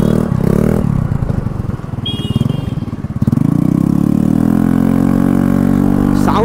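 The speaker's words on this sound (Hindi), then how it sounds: "सोचा नहीं था भाई ऐसा लाउड ऐसा बेस होगा एग्जॉस्ट लगाने के बाद स्कूटी में" A Yamaha Fascino scooter with a modified exhaust and the DB killer removed rumbles loudly up close, with a deep, throaty idle that dips and then rises into a sustained rev.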